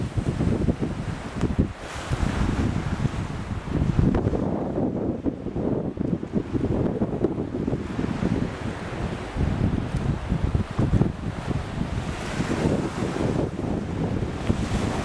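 Strong wind buffets the microphone while white-capped waves wash and surge around a sailboat, a continuous loud roar of gusts and surf.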